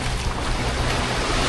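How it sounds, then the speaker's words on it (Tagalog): Strong sea waves crash and wash against the shore as high tide comes in, a loud, continuous surging roar close by with wind buffeting the microphone. "Lakas na ng alon!"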